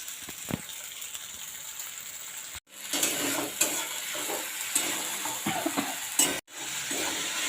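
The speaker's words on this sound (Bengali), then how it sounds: "এরপর দিয়ে দেব টমেটো কুচি, দিয়ে দেব টক দই, এরপর দিয়ে দেব নারকেলের দুধ" Tomato, yogurt and coconut milk cook in a pan for a white potato dum, giving a steady close sizzle with stirring scrapes and a brief pause partway through, no talking.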